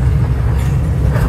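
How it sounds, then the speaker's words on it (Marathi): A toy train runs through Cubbon Park in Bangalore, a loud, close, steady low rumble of wheels and carriages rolling past with no speech. "आता ही टॉय ट्रेन आहे"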